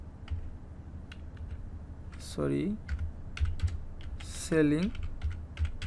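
Computer keyboard typing while entering a title, a steady run of quick, close key clicks with short bursts of speech over it.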